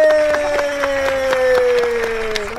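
Studio audience on a Brazilian TV show breaks into sustained applause and cheering, a dense, steady wash of clapping with a held tone running underneath throughout.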